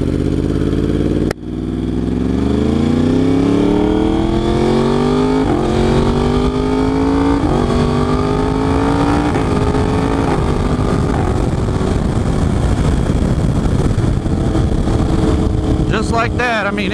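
A 2023 Yamaha R1 sport motorcycle, brand new and being broken in, revs hard through rising gear pulls, each climb in pitch broken by a quick shift, loud and close throughout with brief talk.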